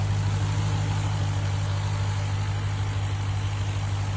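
Supercharged 6.2-liter Hemi V8 in a 2021 Dodge Durango Hellcat idles steadily, a deep, even low rumble with a constant hum and no voices.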